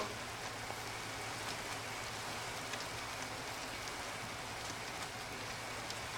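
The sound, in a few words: rain falling in the video game Minecraft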